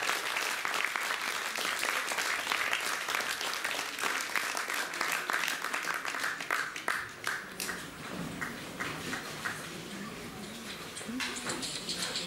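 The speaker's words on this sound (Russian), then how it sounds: "Ваши аплодисменты." Warm audience applause after a concert by a children's choir, a dense, even wash of many hands clapping that holds steady, then thins slightly toward the end, with no voices over it.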